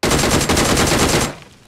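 Rapid automatic gunfire in the mobile battle royale game BGMI, a loud close burst of about a second and a quarter that cuts off and decays, no voices.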